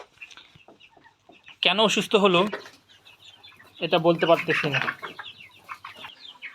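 Backyard desi chickens suffering from cold cluck in an enclosed shed bedded with rice husk, a few soft clucks scattered through, with someone talking over them in two stretches.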